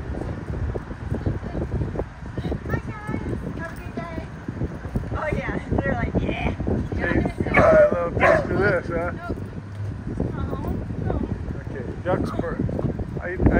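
A dog barks and whimpers in short bursts at close range, mixed in with ongoing conversation between people outdoors near a swan-filled waterside spot.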